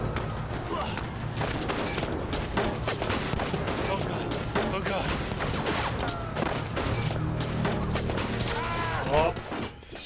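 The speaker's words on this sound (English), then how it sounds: "The soldiers are shooting." Soldiers open fire in the 1979 Revolution: Black Friday video game, a dense, continuous fusillade of overlapping gunshots and bursts running throughout at close range, with game sound and music layered underneath.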